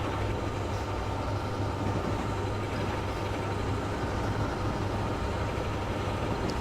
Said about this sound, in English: Oh, we got a couple trains we're meeting here.